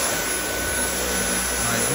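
A Dyson V8 cordless vacuum cleaner runs steadily and close by, a loud, continuous motor whine with a broad airy rush that holds constant for the full two seconds, with no pauses or changes in pitch.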